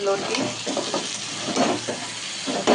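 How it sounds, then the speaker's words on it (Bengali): Taro stolons cooking with shrimp in a pot give off a close, steady sizzle and bubbling hiss, with occasional stirring scrapes rising in soft pulses. "এই যে লতি সিদ্ধ হচ্ছে, হয়ে গেছে, নামাবো।"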